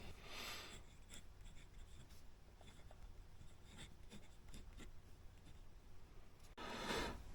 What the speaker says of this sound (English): I mean, my Lamy Safari is pretty scratchy.